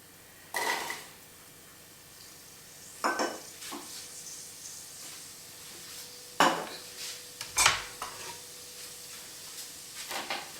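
A pan of leeks sweating in butter for carrot coriander soup, stirred in short bursts: a handful of clinks and scrapes of utensil against the pan, separated by quieter gaps with a faint sizzle beneath.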